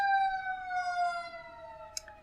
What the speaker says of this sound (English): there's my Oakdale sirens